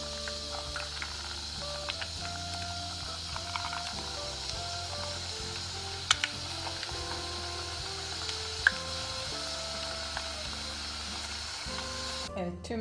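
Köfte meatballs fry in a pan with a continuous soft sizzle, faint and steady under background music, with a few small clicks and pops.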